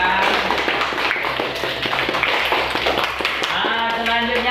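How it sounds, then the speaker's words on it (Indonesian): A classroom breaks into applause for a student who has just finished reading aloud: a steady patter of many hands clapping together for several seconds, fairly close, with some voices mixed in. "Tepuk tangan buat kawannya yang sudah membacakan."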